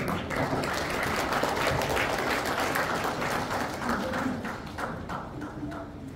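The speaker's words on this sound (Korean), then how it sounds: "김재구 회장님을 여러분 뜨거운 박수로 환영해 주시기 바랍니다." Audience applause at an anniversary ceremony and industry-academia forum, a dense, steady wash of clapping that continues for several seconds and gradually fades toward the end.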